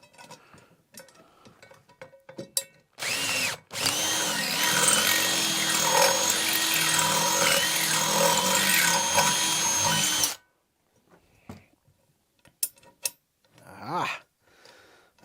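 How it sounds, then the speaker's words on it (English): A power drill runs loud and steady for about seven seconds, reaming out holes in a carbon steel pan with a slightly larger bit, with brief bursts before it and quiet handling clatter afterward. "So I just used slightly the neck size up in drill bit, reamed it out a little bit"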